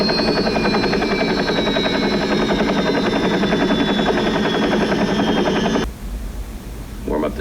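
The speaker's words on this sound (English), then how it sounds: "Warm up the choppers. We're moving in." A helicopter's rotor thumps rapidly and steadily, loud and close with a whining engine, then cuts off abruptly into quieter background.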